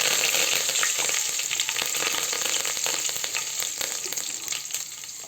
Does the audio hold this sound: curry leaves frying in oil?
yes